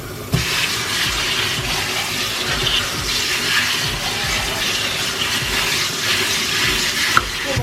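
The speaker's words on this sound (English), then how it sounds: "I'm gonna just rinse these off over here." Steady tap water runs and splashes while collard greens are rinsed under it, a continuous close hiss of moderate loudness with no talking.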